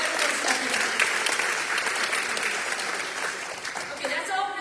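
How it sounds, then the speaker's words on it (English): An audience at a Scituate Chamber of Commerce candidate forum claps steadily for the candidates, a dense, close round of applause that holds for several seconds and thins slightly near the end. "how about a quick early round of applause for everyone stepping up."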